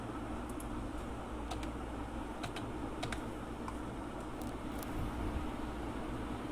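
Computer keyboard keys tapped in short irregular bursts while a search term is entered in statistics software, close and fairly quiet over a steady low hum of room or fan noise, with no talking.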